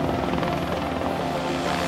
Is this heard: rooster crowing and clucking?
no